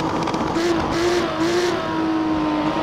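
A Lamborghini Miura P400SV in Assetto Corsa, an older carbureted engine, revs repeatedly in a series of short, steady, loud pulls close up, with the revs held briefly each time.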